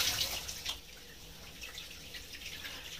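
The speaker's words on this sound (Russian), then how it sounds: "Вода потечет чуть-чуть, не ругайтесь." Tap water runs softly into a sink while face scrub is rinsed off, a quiet continuous trickle with a brief splash near the start.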